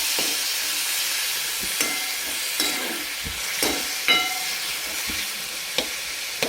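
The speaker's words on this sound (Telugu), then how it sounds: "టమాటా వేసి కలపాలి కొంచెం." Chopped tomatoes are stirred into hot oil in a pan, producing a loud hissing sizzle with intermittent scraping and clinking of a spoon, heard up close with no speech.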